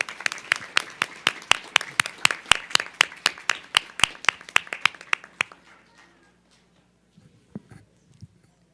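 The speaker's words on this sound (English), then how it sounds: "Another round of applause." Audience at a school board meeting gives a round of applause, a fairly near burst of claps that steadily thins out and stops, followed by quiet with a few faint knocks.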